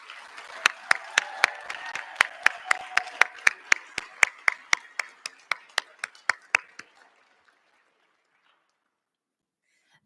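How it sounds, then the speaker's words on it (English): A small ceremony audience gives a final round of applause for physical therapy students, with sharp, distinct claps in a fast, steady rhythm that thin out and fade to silence near the end. "Let's give these students a final round of applause."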